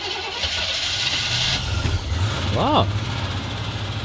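An old van with a mechanical fuel pump turning over and starting in the cold, then settling into a steady idle, with a person exclaiming and talking over the engine.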